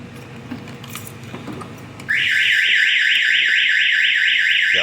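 After a couple of seconds of jangling and handling noise, a newly installed car alarm in a box Chevy starts, repeating a rapid warbling siren pattern close by.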